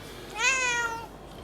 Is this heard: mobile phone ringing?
no